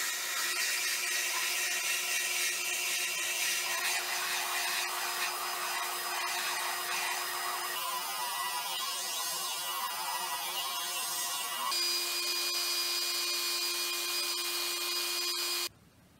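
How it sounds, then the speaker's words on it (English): A nail spins in a running drill while it is ground against a belt sander, giving a loud continuous whirring, buzzing grind with shifts in pitch and texture, then stopping abruptly at the end. "And as you're sanding it down on a belt sander, you just turn the drill on like this."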